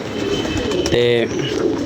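A loft of about 200 pigeons, one giving a single clear coo up close amid a busy background of birds and faint talk.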